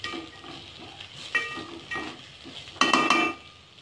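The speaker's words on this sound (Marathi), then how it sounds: "आता परत हे आपण छान परतून घ्यायचे हलकं." Cashew pieces are sautéed with spiced masale bhaat rice. A faint, quiet sizzle is broken by two brief bursts of utensil clatter against the pan as it is stirred.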